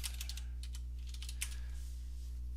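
Keys on a computer keyboard click as an equation is typed, giving light, close, irregular taps in small clusters over a steady low electrical hum.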